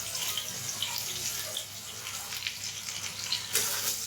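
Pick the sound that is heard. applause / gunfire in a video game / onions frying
onions frying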